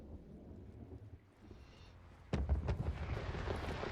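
Fireworks going off in a competitive PC video game match, a quiet stretch followed by a sudden sharp blast and several booming bursts that trail into rumbling, heard without talk.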